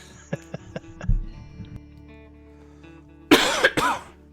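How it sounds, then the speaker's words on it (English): Two or three sharp coughs close by after a stretch of quiet room noise, preceded by a few faint knocks and a soft thump. "Final cough."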